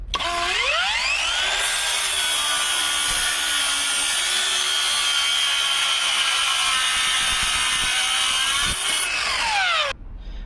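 A Ronix 8902 brushless circular saw spins up to a high, steady whine and cuts across the grain of a 50 mm wooden board for several seconds, then winds down. The sound is loud and close.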